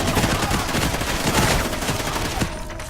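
Sustained rapid gunfire from a gun in Call of Duty Ghosts, loud and dense with no break, close by and alone with no talk, easing slightly at the very end.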